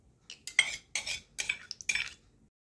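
Cashews and almonds being stirred and tossed in ghee in a pan for semolina sheera, giving a few short clinking, scraping bursts of spoon against metal, close and moderately loud with brief pauses between.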